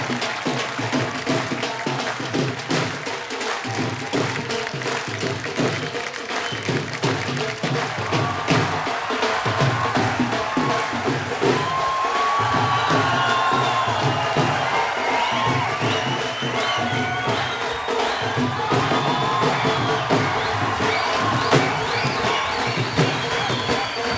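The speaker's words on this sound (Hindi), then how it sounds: "जोरदार तालियों से एक बार स्वागत कीजिए।" A studio audience on a television comedy show gives loud, sustained applause and cheering, a dense crowd roar that keeps going throughout, with tonal sounds mixed in.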